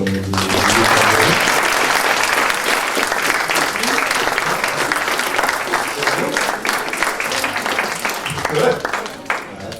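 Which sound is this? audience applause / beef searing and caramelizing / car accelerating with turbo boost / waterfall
audience applause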